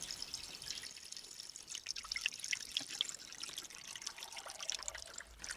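Coolant pours into a 2018–22 tenth-generation Honda Accord after a water pump and thermostat replacement. The liquid makes a faint, steady trickle with small drips and splashes throughout, and nobody talks.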